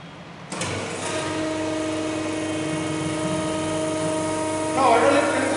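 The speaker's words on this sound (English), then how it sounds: "So now I am going to switch on the hydraulic draining system." A hydraulic training system in a fluid power lab switches on abruptly and settles into a steady, loud motor-pump hum with a tonal whine, running continuously with a brief surge near the end.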